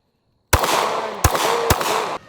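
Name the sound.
Glock Gen V and Gen 5 pistols being fired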